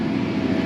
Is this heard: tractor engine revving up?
yes